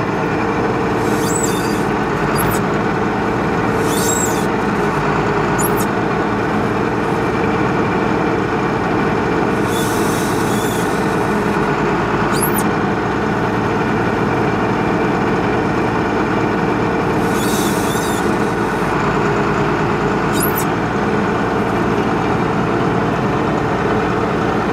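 A farm grain wagon's auger trickles the last of the seed out while a tractor engine idles steadily, a continuous low rumble and drone with occasional brief hisses on top for the whole stretch.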